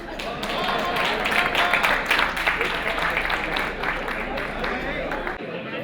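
Applause from the audience at the Payam-e-Aman mushaira poetry gathering fills the hall as dense, sustained clapping, loud and even throughout before thinning out at the very end.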